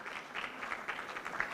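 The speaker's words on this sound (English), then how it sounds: "A round of applause for that." Quiet, brief applause from an audience at an African climate change adaptation conference: a soft, even patter of clapping that stays steady and distant for about a second and a half.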